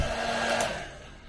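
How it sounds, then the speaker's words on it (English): A heat gun blows with a steady, close whooshing fan roar, lasting barely over a second with no talking. "This is real heat gun."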